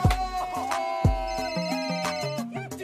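A phone ringtone plays a bright, electronic melody of repeated tones that step up and down in pitch, loud and close with no talking over it.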